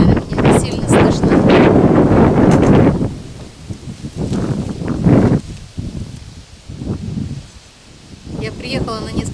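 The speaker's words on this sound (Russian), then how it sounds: "Сегодня сильный ветер, наверное," Strong wind buffets the microphone in heavy rumbling gusts, dropping away briefly between blasts, with a voice speaking underneath.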